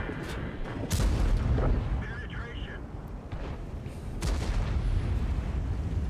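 Heavy cannon shots from an M48 Patton tank in a video game, a couple of deep booming blasts with rumbling decay, heard under ongoing talk.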